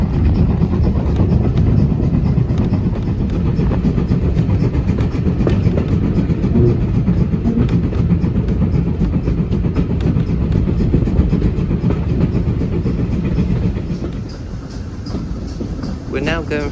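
A Paignton and Dartmouth Railway train runs on the tracks past Churston station, descending from the top of the climb toward Greenway Tunnel. A loud, continuous rumble fills the whole span with faint rhythmic rail clatter, heard from on board and easing slightly near the end.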